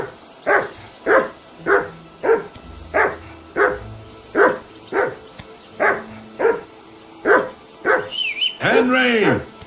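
A dog in a medieval village setting of Kingdom Come: Deliverance 2 barks repeatedly at an even pace, about a dozen loud close barks, ending in a drawn-out whine.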